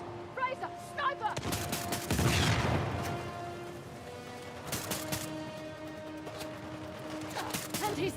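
Sniper gunfire in the Uncharted: The Lost Legacy video game: a loud crack and a burst of shots around two seconds in, followed by a few sharper distant pops against a low, steady game soundscape.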